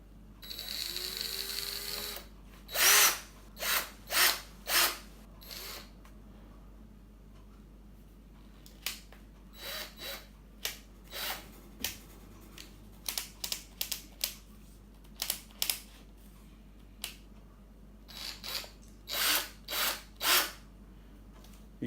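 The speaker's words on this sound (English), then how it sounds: "You can use this as a screwdriver and as a normal cordless drill." A Dewalt DCD776D2T cordless drill running in short bursts, repeated quick whirring pulses starting and stopping at a moderate distance, with no talking.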